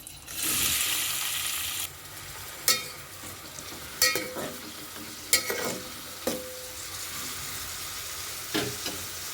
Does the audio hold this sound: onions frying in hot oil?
yes